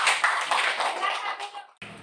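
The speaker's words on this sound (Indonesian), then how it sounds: "tepuk tangan dulu untuk semua" A class of primary school pupils clap together in a short burst of applause that stops after under two seconds.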